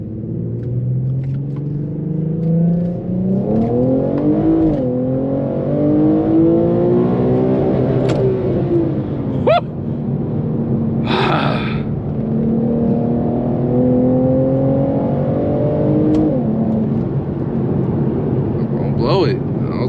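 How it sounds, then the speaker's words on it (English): A tuned E85-fuelled Infiniti Q50S engine revs through hard pulls, its loud exhaust droning and rising in pitch over and over across the whole stretch, with people talking over it inside the car. "Don't that exhaust just do something to you?"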